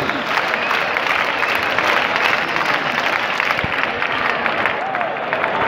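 Sustained crowd applause and clapping fills the stands at the final of a bullfighting recortes contest in Valencia, a steady dense roar of hands with some cheering mixed in, loud and continuous throughout.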